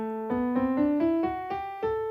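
A piano plays an ascending A Dorian mode, notes struck one after another at a steady moderate pace, clear and close with nothing else.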